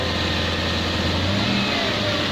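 A Lexus LS400 engine runs steadily with its air intake removed, giving a loud, close, continuous drone with a low hum and a slight rise in revs partway through.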